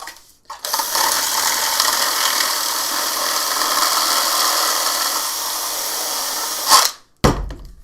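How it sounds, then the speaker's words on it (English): A power drill bores into the base of a craft project, a loud, steady whir holding for about six seconds before cutting off, followed by a brief restart. "I guess just drill into the base"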